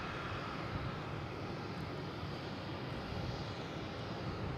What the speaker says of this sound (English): We have JetBlue taking off, heading to Phoenix,